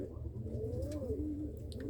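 Pigeons coo steadily inside a loft housing nesting birds, the low repeated burbling calls overlapping close by with no talk.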